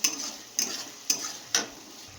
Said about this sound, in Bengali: বেশ খানিক্ষণ কষাবো মশলাটাকে